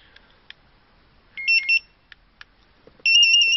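A StarLine A94 GSM CAN car alarm with auto-start answers a remote start command with shrill electronic beeps: scattered short clicks, a pair of quick chirps, then a sustained two-tone beep at the end.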